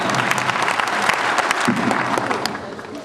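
Audience at a Dhanuk community gathering in Bihar clapping loudly and continuously, a dense crowd applause with a faint voice beneath it.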